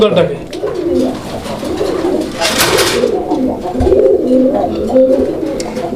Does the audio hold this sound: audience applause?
no